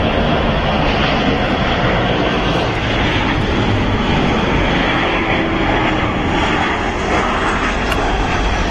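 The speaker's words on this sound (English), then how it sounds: "Yeah, she's a beautiful aircraft." Engines of a KLM Boeing 747 airliner roar loudly and steadily throughout, a broad, constant rumble with no talk over it.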